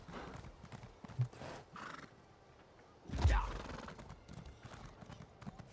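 Horse hooves clip-clop at a walk while riding in the video game Elder Scrolls Online, soft steady steps with a whinny partway through, a voice talking over it.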